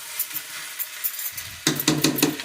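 Veg chowmein being stirred and tossed in a home kitchen pan with soy sauce and vinegar, a soft sizzle giving way to louder scraping, clattering stir strokes in quick repeated bursts toward the end.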